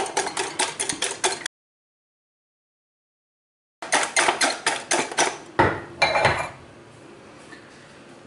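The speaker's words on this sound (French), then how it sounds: "Je blanchis mes œufs entiers avec le sucre." Whole eggs beaten with sugar in a bowl, a whisk clattering in quick rhythmic strokes against the sides, loud and close, pausing briefly before resuming with a few heavier knocks.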